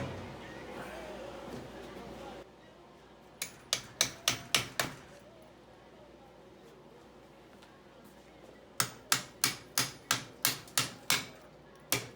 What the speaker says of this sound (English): I just need to get a big hammer on that crap.